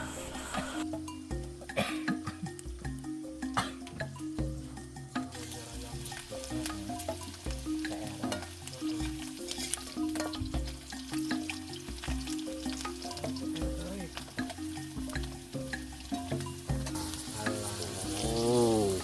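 Jengkol sizzles as it fries in a pan, a steady crackle beneath continuous background music throughout.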